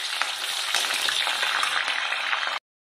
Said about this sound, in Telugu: ఆయిల్ వేడెక్కింది. ఇంకా ముక్కలు వేసింది